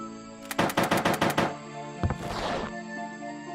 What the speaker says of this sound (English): That's definitely the curtain ripping.